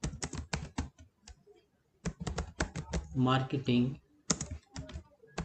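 Keyboard typing on a computer while building a WordPress page in the Elementor plugin, bursts of quick clicking keystrokes alternating with a person talking.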